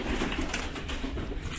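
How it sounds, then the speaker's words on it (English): Pigeons or doves cooing at a village market, soft repeated calls under steady outdoor bustle, fairly close and moderately loud. "those are lovely birds,"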